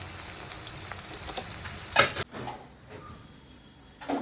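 Small local pond shrimp fry in a pan with a busy crackling sizzle, loud at first, then dropping to a softer hiss after a sharp clatter at the midpoint, with a faint knock near the end.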